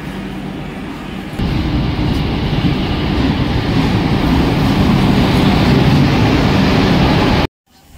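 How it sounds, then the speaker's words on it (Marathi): A passenger train running from Panvel to Sawantwadi makes a loud, steady rumble of wheels and carriage noise that swells after the first second, then cuts off abruptly near the end. "आमची पनवेलवरून आता ट्रेन आहे"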